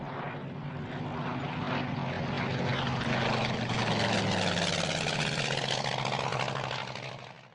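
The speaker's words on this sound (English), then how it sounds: "The drone of an aircraft comes from overhead." A propeller aircraft drones overhead in a wartime setting, a steady, broad engine hum that swells slightly and holds loud throughout before tapering off at the very end.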